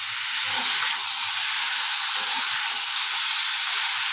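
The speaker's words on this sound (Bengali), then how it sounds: "আমার এদিকে আতিফের কুকারেই ডালটা বসিয়ে দিয়েছি" A pressure cooker cooking dal lets off a constant, loud, even hiss of escaping steam that runs unbroken through the moment, with faint kitchen clatter beneath.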